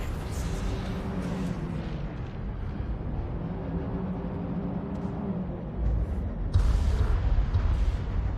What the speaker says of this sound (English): Firing missile.